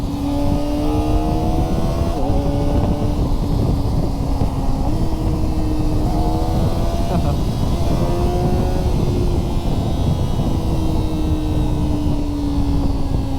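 A Kawasaki ZX-4RR sport bike screams at high revs while riding. Its pitch drops in several distinct steps as the quick shifter clicks down through the gears, loud and close with wind rush underneath.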